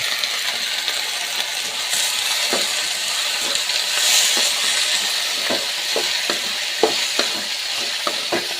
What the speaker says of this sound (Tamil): வாழைப்பூ எடுத்து கொட்டிக்கலாம்